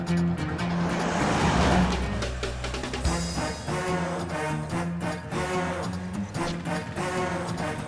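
In a Hindi-dubbed action movie chase, a car engine roars loudly and revs repeatedly, with surging tones and a brief squeal amid busy background music and effects.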